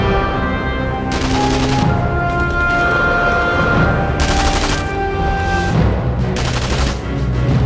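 In the video game Sniper Elite V2, gunfire aimed at the player comes in three loud, rapid bursts of shots separated by short pauses, over constant in-game background noise.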